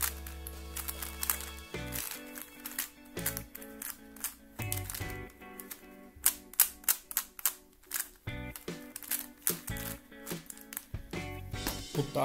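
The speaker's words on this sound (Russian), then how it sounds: "Давайте послушаем кубика Рубика." A Rubik's cube being turned gives a run of sharp, close clicks and clacks in quick irregular bursts, loud and dry with brief pauses between flurries of twists.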